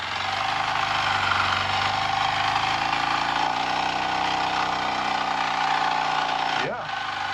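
Kawasaki KLX 230 dirt bike engine runs downhill with a steady, close low drone at light throttle, with wind or road noise on top and a brief change in pitch near the end.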